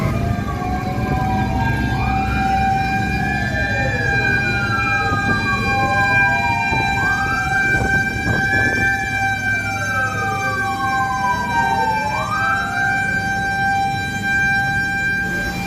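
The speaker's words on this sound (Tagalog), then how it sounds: "hindi ko nakikita itong mga bumberong mga parating na ito at naririnig na lang natin" Fire truck sirens wail continuously in overlapping rising and falling sweeps as they approach a fire on Shaw Boulevard in Pasig, loud and steady over street rumble, with several sirens layered together.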